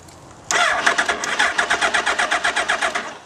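Motorbike engine with an RFID-authenticated ignition cranking over without firing, a steady rhythmic chugging of the starter that begins abruptly and repeats evenly, close and fairly loud, with no catch or idle following.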